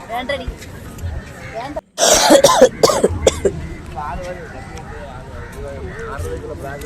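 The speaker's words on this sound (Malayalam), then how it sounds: "ചുമയാണ് ഗൈസ്, ശബ്ദമില്ല" A person with a bad cough clears the throat and coughs in a short, harsh burst of several rough hacks, close and loud, with talking before and after.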